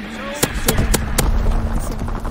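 Mortar rounds fire in a Call of Duty match, four sharp broadband blasts spaced roughly a quarter second apart over steady battlefield rumble and a faint tone, loud and close.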